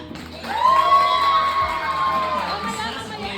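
Children cheer and shout loudly at a birthday party with a Jollibee theme, a sustained crowd of young voices with whoops rising over the noise; no clapping stands out clearly.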